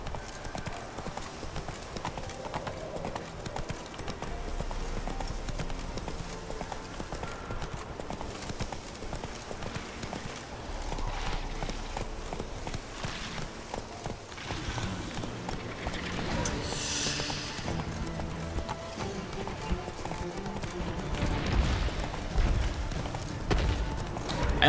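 Roach the horse's hooves in The Witcher 3 clopping steadily at a walking pace, with occasional snorts and some background game sound, no talking.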